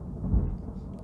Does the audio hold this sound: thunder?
yes